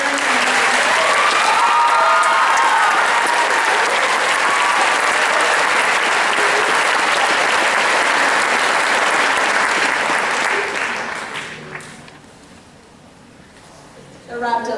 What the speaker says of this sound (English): So if we could give a big round of applause for them.